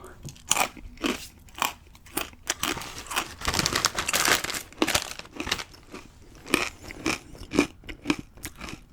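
Corn nuts are chewed close up in a series of sharp, loud crunches with crinkly bites, coming in irregular bursts with brief pauses between mouthfuls.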